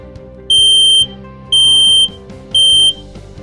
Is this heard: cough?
no